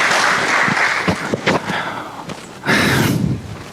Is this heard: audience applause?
yes